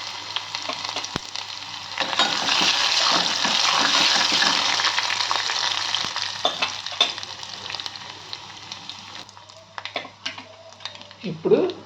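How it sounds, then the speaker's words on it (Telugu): Mustard and cumin seeds crackle and splutter in hot oil for a tempering, with garlic added to the pan; a steady, fairly loud sizzle with scattered pops and light stirring clatter near the end. "ఇవి చక్కగా ఆవాలు, జీలకర్ర చిటపటలు ఆడుతున్నప్పుడు కొంచెం ఎల్లుల్లిపాయలు వేసుకోవాలి."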